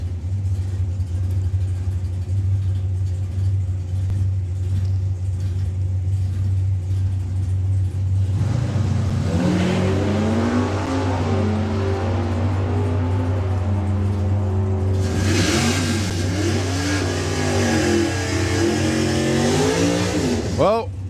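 At a drag strip, a Dodge Charger and a green Jaguar E-Type rev and launch, their engines rising in pitch in two surges over a steady low background rumble.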